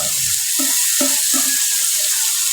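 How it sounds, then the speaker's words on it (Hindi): Boiled black chickpeas tumble into sizzling spices, giving a steady bright hiss with several soft, low thuds and spoon knocks spaced through it, close and fairly loud, no voices. "अभी मैं ऐड कर रहा हूँ चने जिनको हमने उबाला हुआ है"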